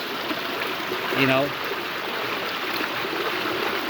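An outdoor stream rushes steadily, a broad, loud, continuous wash of flowing water, with a brief voice-like tone rising over it partway through.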